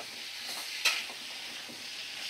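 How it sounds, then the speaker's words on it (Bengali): Pumpkin pieces stirred and fried in a pan over high flame, a steady soft sizzle with one brief louder scrape of the spatula partway through, no voices. "কুমড়োটা দিয়ে নাড়াচাড়া করে নিচ্ছি। আর ফ্লেমটাকে আমি এবারে হাই ফ্লেমে করে দিয়েছি, কারণ কুমড়োটা একটু ভাজা ভাজা করতে হবে।"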